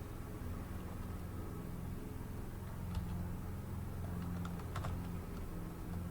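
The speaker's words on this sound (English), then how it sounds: "So just type Bernard there if you can find it" Someone types on a computer keyboard, a few faint scattered key clicks over a low steady background hum.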